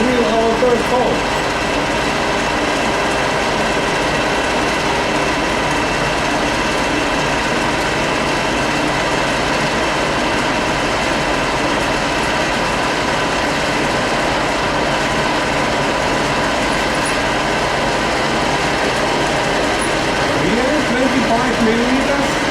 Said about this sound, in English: And we drill our first hole.